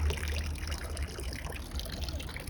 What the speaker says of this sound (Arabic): كده بدات تنزل ميه،